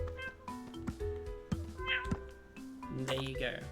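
A person imitates a cat, voicing a string of short, tonal meows and mews in quick succession, close and clear, with game sound effects in between.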